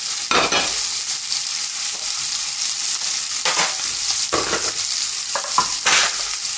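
Food sautés in a hot pan while foie gras is prepared, a steady loud sizzle and hiss with occasional bursts as ingredients are stirred or shifted, close up and without talk.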